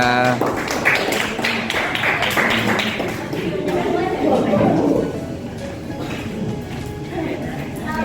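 An audience in a classroom applauds a student group, a burst of loud hand clapping that fades into scattered claps, with people talking over it.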